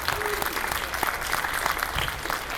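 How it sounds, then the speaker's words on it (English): Morning conference crowd at Download Day in Salt Lake City applauding themselves, a steady, fairly quiet patter of many hands. "Give yourself an applause."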